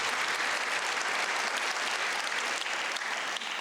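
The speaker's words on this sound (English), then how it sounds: "We can applaud if you like, that's fine." An awards evening audience applauds, a dense, even wash of many hands clapping that holds steady throughout.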